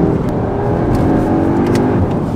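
Audi S3 2023 engine pulling hard while the car accelerates on the road, a loud, steady, close drone with rising tone and road and wind noise, no voices.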